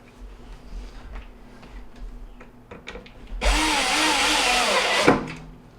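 A drill drives a screw into a Whirlpool oven panel in a single loud, close burst of about two seconds, following soft ticking and handling noises.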